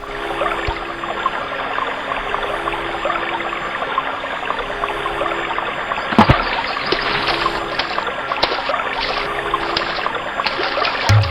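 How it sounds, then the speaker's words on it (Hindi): A mountain waterfall stream on a snowy Himachal trek rushing loud and close, with a continuous broadband roar and occasional splashes. "इस झरने को तो भाग के ही पार करना होगा।"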